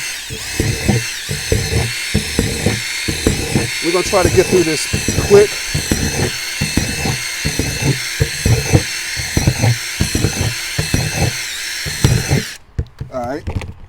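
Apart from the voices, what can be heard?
drill drilling holes in plastic container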